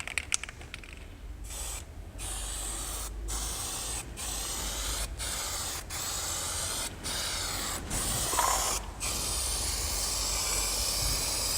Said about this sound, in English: We're now ready to spray.